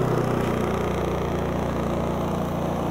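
A Honda EU3200i inverter generator idles at close range, giving a steady, even low engine hum with a faint rumble and no changes in pitch over the few seconds.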